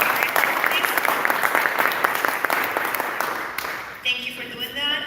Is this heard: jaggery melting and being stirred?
no